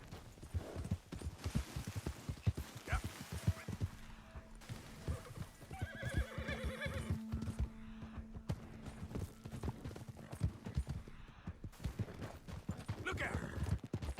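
A Perlino Andalusian horse in the video game Red Dead gives a clear neigh amid steady galloping hoofbeats and scattered distant gunshots. Someone talks over the sounds throughout.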